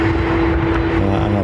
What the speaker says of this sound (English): See, there's a US Air Force KC-135. Pleasure takeoff. 10 right.